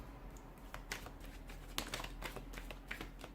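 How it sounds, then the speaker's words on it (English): Tarot cards being shuffled by hand, a quiet close-up run of soft riffling flicks and taps in an irregular rhythm. "give the cards a shuffle"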